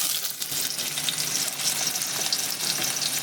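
Bitter gourd frying in oil gives off a steady, hissing sizzle with a watery, bubbling texture, fairly close and continuous, with no talking.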